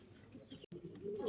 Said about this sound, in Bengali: আপনারা দেখতে পাচ্ছেন একজোড়া বন্টিনেট রানিং কবুতর, ডিম বাচ্চা করানো কবুতর, কত অ্যাক্টিভ দেখেন।